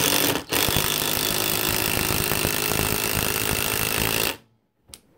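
A WEN 20V cordless impact driver drives a 3.5-inch deck screw into wood, a loud, continuous rattling hammer for about four seconds that stops abruptly, followed by a brief clunk.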